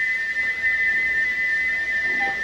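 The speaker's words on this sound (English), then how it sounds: "he wouldn't stop whistling until two fitters climbed up and knocked his whistle valve in place" A steam engine's whistle blows on and on in one steady, shrill, unbroken tone, loud and close, with no pause.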